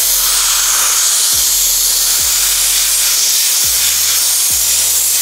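A Dampf Drache 22170 Plus dry steam cleaner used on a car gives a loud, continuous steam hiss throughout, with a few low thumps under the spray.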